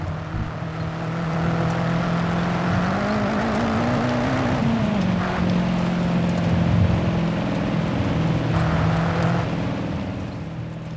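A stock V8 car engine in Forza Horizon 5 drones steadily while driving. The pitch swells and dips around the middle before settling into a sustained, loud, even roar with no talk.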